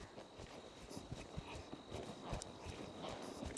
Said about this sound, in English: Trot.